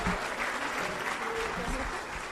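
A church congregation applauds in a Spanish-language service, dense, steady clapping filling the room while a voice talks faintly underneath.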